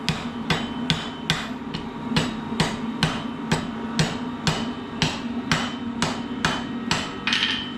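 A blacksmith's hammer strikes induction-heated steel to forge-weld it, landing about two blows per second in a steady, loud, close rhythm over a constant humming background.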